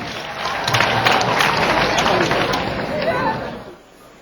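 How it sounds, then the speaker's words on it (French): An audience at an official launch ceremony in Abidjan applauds loudly in a dense, steady wash of clapping with crowd noise, fading out near the end. "J'appelle Agalawal sous vos applaudissements."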